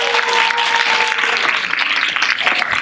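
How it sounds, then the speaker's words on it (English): An audience at a sports awards presentation gives a team a round of applause: loud, dense, sustained clapping filling the room, with a faint voice briefly audible at the start. "Can we just give a round of applause for them?"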